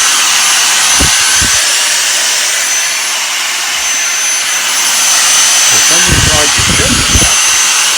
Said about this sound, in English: Let me just vacuum up a little bit here.